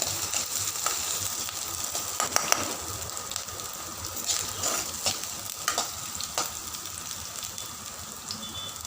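Finely chopped garlic fries in a pan over a high flame for sweet corn soup, giving a constant crackling sizzle with scattered sharp pops and occasional spoon scrapes, with no talking.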